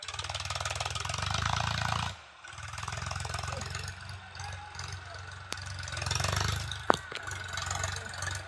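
A tractor engine running on a dusty rural road, a steady mid-pitched rumble with a brief dip partway through, then continuing as it comes closer, with a couple of sharp knocks near the end.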